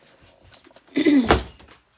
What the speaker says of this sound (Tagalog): Okay, nasarado na yung pinto.